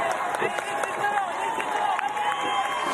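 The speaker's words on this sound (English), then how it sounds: "So listen to the crowd really giving their support to the French athlete." A crowd cheers and shouts for the French athlete Louis Noel as he competes in the men's para triathlon at the Paris 2024 Paralympics, producing a loud, continuous roar with a commentator talking over it.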